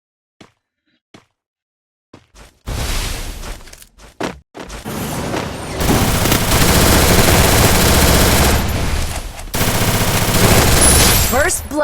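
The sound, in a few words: gunfire in a video game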